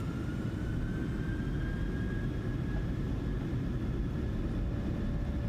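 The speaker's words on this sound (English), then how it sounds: "I'll be quiet so you can hear the departure sounds with the Bore sound pack." Jet engines of an airliner roar at takeoff thrust on departure in Microsoft Flight Simulator 2024 with an add-on sound pack, a dense, steady low rumble with a thin whine above, continuous and unbroken, no talking.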